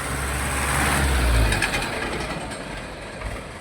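A private university bus passes on a road, a heavy low engine rumble that swells and then fades as it moves by, loud and close, with no talk.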